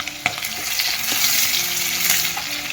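Onion frying in oil with garlic, mustard seeds, cumin and curry leaves for masala dosa filling: a loud, dense, continuous sizzle with a few light spoon knocks, close up and without voices.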